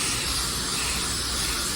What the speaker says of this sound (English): I like to spray the spray out card with the same sealer I'm gonna put on the car